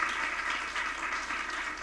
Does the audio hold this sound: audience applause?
yes